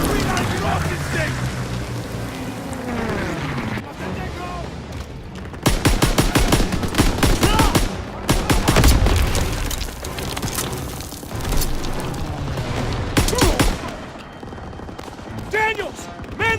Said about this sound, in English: Man that AA gun!